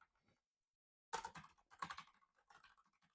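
Bursts of quick keystrokes on a computer keyboard in a quiet room, a short tap first, then a clustered run of clicks after a pause.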